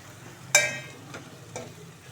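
Eggplants cook in masala in a pan, starting with a sharp clatter as they are tossed in, then a low sizzle and a couple of soft stirring scrapes.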